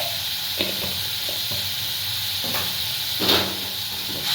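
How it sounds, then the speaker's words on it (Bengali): Kashmiri red chili powder frying in a pan for a Bengali doi katla dish, a steady close sizzle with a few soft scraping stirs and one louder clatter near the end, no talking. "এটাকে আমরা এখন একটু 2 মিনিটের জন্য ফ্রাই করে নেব"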